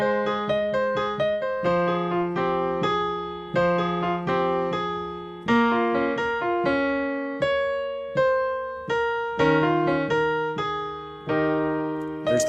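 A piano plays the chorus of a song at normal tempo, with steady struck chords and melody notes moving in a flowing rhythm, close and clear with no talking.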